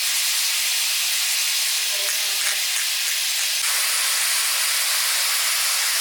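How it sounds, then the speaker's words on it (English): Ground beef pressed flat in a covered cast iron pan, salted and peppered, searing to a crust while green beans steam nearby, giving a steady, even sizzling hiss with a couple of brief soft knocks partway through. "Ground beef is getting its nice crust being built on there on that one side."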